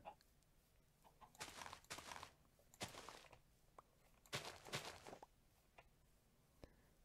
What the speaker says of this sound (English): Some chickens over here.